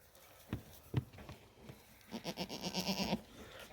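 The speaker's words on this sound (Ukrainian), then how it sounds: "білі кози прийшли мене з двох сторон" White goats bleating on a spring farm, two short calls followed by a longer, wavering bleat close by, over faint background noise.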